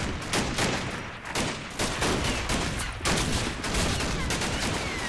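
Dense gunfire in the WWII Normandy wargame Combat Mission: Battle for Normandy, rapid overlapping rifle and machine-gun bursts crackling continuously and loudly throughout, with no talk.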